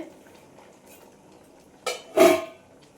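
A metal pot lid is lifted off a pot of cooking musur dal in a home kitchen, giving a short scrape followed by a brighter clatter, fairly close and otherwise quiet.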